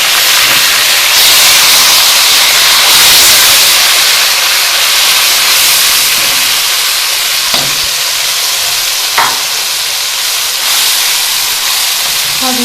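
Tomato paste hits hot oil in a pan with browned ginger and garlic for a turnip curry. It sizzles and hisses loudly and steadily throughout, with a couple of small clinks and no talking.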